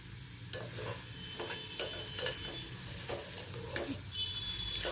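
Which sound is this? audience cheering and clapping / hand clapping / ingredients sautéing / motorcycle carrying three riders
ingredients sautéing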